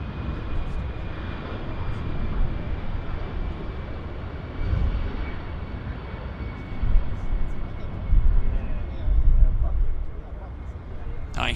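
An Avro aircraft moves past at Vancouver Airport with a steady, broadband engine roar that swells slightly toward the end, while people talk over it.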